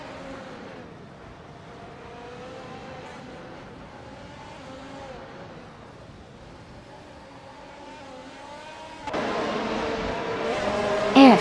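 Race cars lapping a track in a racing video game, including a 2022 Alfa Romeo, with a steady engine drone that rises to a louder, brighter roar near the end.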